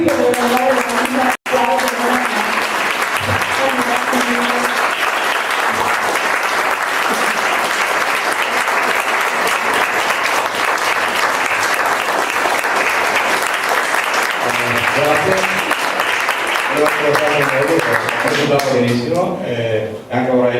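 A conference audience applauds loudly and steadily for about twenty seconds, dense clapping filling the room, while a voice speaks over it at the start and again near the end.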